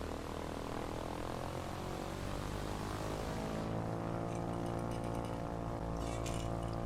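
Steady, loud drone of a Vans RV-14 propeller engine in Microsoft Flight Simulator, a continuous buzzing roar that holds throughout with slight shifts in pitch and no voices.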